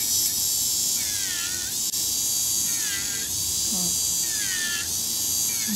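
An electric nail drill bit grinds off a fiberglass nail, giving a steady high-pitched whine that dips and rises in pitch several times as pressure on the nail changes, close and loud.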